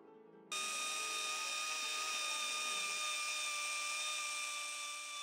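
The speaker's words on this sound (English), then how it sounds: "you're working with these power tools that make a lot of noise, and there's a lot of vibration" Power tools carving a marble sculpture kick in after a brief pause, a high, steady whining drone with strong tonal ringing that holds on continuously.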